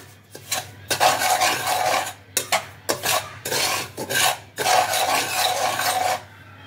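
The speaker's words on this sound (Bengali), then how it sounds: "আমি সুজিটাকে একটু ভেজে নেব" A cup of semolina being dry-roasted on low flame in a kadai, stirred with a utensil: repeated rough scraping and rasping strokes in uneven bursts, close and fairly loud, with short pauses between strokes.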